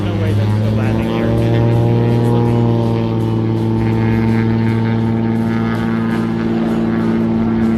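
A propeller airplane circles before coming in to land, its droning engine tone steady and fairly loud, holding a continuous hum with a faint pitch shift as it turns.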